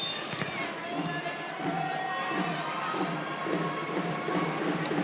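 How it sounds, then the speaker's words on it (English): A crowd at a 2016 women's Olympic qualification volleyball match between the Dominican Republic and Japan roars and cheers in a large arena, a steady, dense wash of voices with a commentator talking over it. "listen to the crowd"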